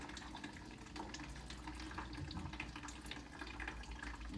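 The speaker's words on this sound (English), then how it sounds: "So it's taking quite a bit of water to soak it up" Water poured onto potted plants, soaking into coco coir potting medium indoors: a steady, soft trickling and splashing that runs continuously and close by, with no voices.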